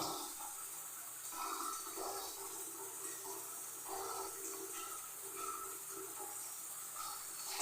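Water from a tap or dipper pours and splashes steadily during a bath, a faint continuous hiss with soft irregular splashes.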